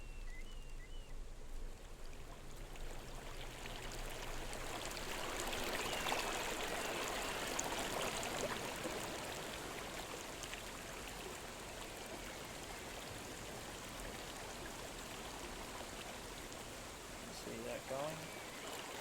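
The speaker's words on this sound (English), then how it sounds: "And then if we come over here to the waterfall," Steady rushing water from a waterfall in a game engine scene fills the space with broad constant noise that swells slightly midway, with faint talk underneath.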